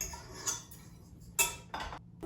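A whisk attachment being fitted onto an old KitchenAid stand mixer: three or four sharp metallic clicks and clinks spaced unevenly, close and fairly quiet, with no speech.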